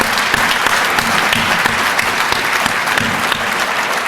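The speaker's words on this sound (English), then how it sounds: "Let's give them a round of applause." Applause for career and technical educators at a symposium, a steady dense round of clapping from a sizable audience filling the whole stretch with no talk over it.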